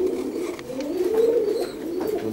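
Pigeons coo in soft, repeated low calls as they come to drink, a gentle close warble rising and falling over a quiet background.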